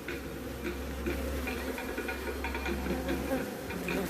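Honey bees swarming an extracting room to clean up spilled honey, a steady close buzzing drone throughout with a low hum beneath it.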